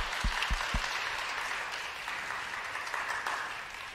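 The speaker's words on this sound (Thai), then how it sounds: "ให้เราปรบมือให้พระเจ้าหน่อย" A church congregation claps together in sustained, even applause at moderate distance, opening with a few low thumps and then holding a steady rattle to the end.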